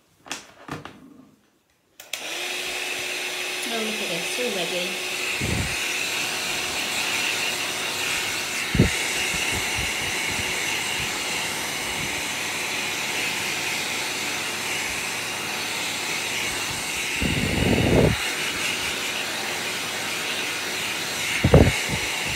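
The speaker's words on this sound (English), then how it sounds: "And my heat gun. So I apologise for the noise now." A heat gun blows a steady, loud hiss for melting clear embossing powder on a craft card, running continuously after a brief start, with a few knocks and a short spoken remark over it.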